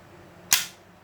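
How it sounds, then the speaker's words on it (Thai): A single sharp snap as a homemade rat trap gun fires two darts, one short close crack that decays quickly, with nothing else around it. "เนี่ยลั่นแล้ว ยิงแล้ว"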